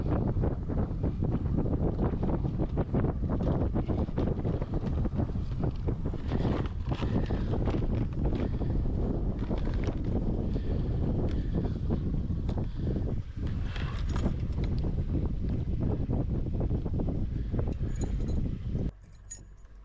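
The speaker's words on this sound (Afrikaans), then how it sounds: "die wind waai" Steady wind buffets the microphone beside a bass pond, a constant broadband rush with gusty low-end rumble that cuts off abruptly near the end.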